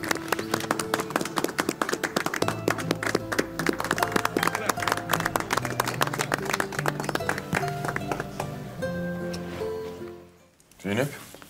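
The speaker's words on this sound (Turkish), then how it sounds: "Alkışlasana sen ya." Guests clap after a wedding ceremony in a Turkish TV drama, a busy, continuous patter of hands over tuneful music that cuts off abruptly near the end, followed by a brief voice.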